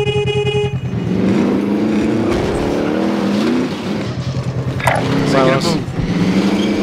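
A car in the battle royale game Fortnite drives loudly with a steady engine roar that shifts pitch as it moves, a horn-like tone sounding near the start, while players talk over it.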